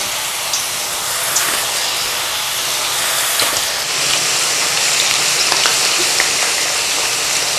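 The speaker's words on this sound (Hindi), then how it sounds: "बहुत गर्म ऑयल में तेज़ फ्लेम पर आपने फ्राई करना है" Potato chips deep-fry in very hot oil over a high flame, giving a loud, steady, close sizzle and hiss that bubbles without a break for the whole stretch.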